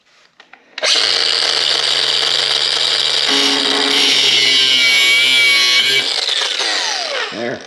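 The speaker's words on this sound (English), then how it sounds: "Then the next fun thing is trying to get the pop rivet gun in there." Power tool whirring steadily at close range for about seven seconds while working on rubber panel latches of a Ski-Doo REV MXZ 550F snowmobile, rising sharply and winding down at the end, with no talk.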